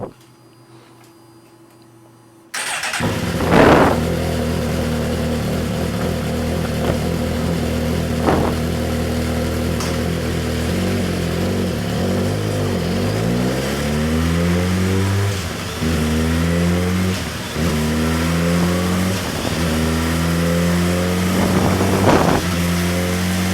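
A 2017 Suzuki GSX-R1000 motorcycle engine held at wide open throttle roars loudly and steadily after a short near-silent start, its pitch sweeping up and down in repeated revs toward the end.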